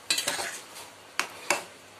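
A spoon scrapes and taps against a pot of raw green mango chutney, simmering with salt: a cluster of quick strokes, then two sharp separate knocks, fairly quiet, with no talking.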